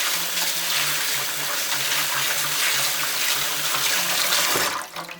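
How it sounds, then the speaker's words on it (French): Tap water running into a sink while endive leaves are rinsed, a steady splashing gush with a low hum underneath that cuts off abruptly near the end. "Je rince un coup grossièrement comme ça."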